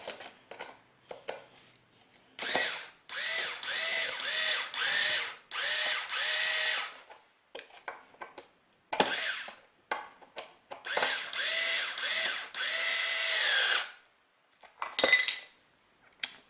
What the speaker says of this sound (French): donc soit à la main, soit avec une visseuse